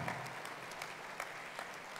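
Steady crowd applause from an audience at a municipal address, a dense continuous patter of many hands clapping throughout with a few louder individual claps standing out.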